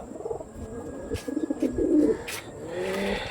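Pigeons coo in a loft of Andhra Kalshira birds, soft throaty calls rising and falling several times against a constant background hum and faint passing traffic.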